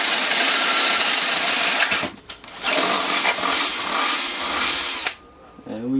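An electric drill motor driving a homemade dirt bike whines loudly and steadily in reverse, cuts out briefly near the middle, revs again, then stops, with a faint voice at the end.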